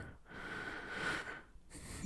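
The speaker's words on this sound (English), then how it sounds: "I'm breathing into this sensation." A person breathing in deeply during a lying stretch, with two slow, soft breaths close to the microphone separated by brief pauses.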